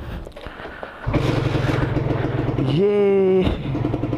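A Kawasaki Ninja 150 RR motorcycle engine fires up after a quiet moment and settles into a loud, rough idle, briefly revving higher before dropping off, with a voice speaking over it.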